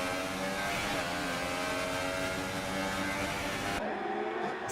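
A video-game race car whines past the pits during a Monaco Grand Prix race, a sustained high engine drone that cuts off abruptly near the end.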